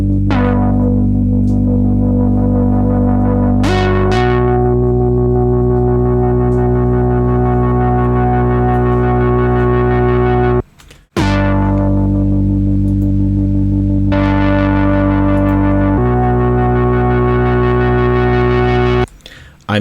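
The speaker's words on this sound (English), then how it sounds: "We can disable the effects and listen to the raw audio file from the Moog." Raw Moog Subsequent 37 CV synthesizer with effects switched off, a thick sustained bass-heavy tone shifting through a few long held notes, loud and upfront, cut by two short gaps, no talk.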